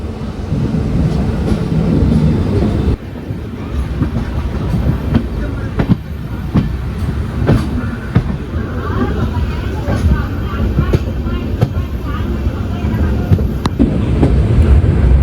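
A passenger train of blue coaches bound from Bangalore to Danapur rolls past near Krishnarajapuram, a steady loud rumble with rhythmic clickety-clack of wheels over rail joints throughout, with a voice speaking over it.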